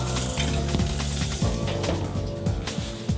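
Roast duck sizzles in its own rendered fat in a pan, a steady crackling hiss with a few clanks and scrapes as it is moved and flipped, and no talking.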